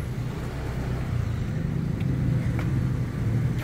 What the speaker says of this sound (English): Cross traffic here.